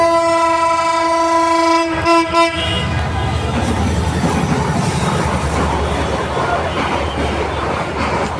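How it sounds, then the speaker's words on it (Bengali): A passing train sounds a long steady horn that cuts off after about two seconds, then the heavy rumble and clatter of the carriages rolls by loudly and continuously. "ট্রেনটা চলে যাক ভাই"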